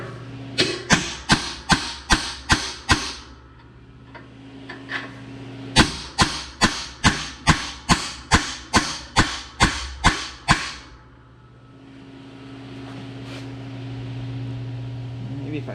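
A hammer striking a chisel into a scored cultivator part in two rapid runs of sharp metallic blows, about seven then eleven, loud and close, with a low engine-like hum underneath and quiet between the runs.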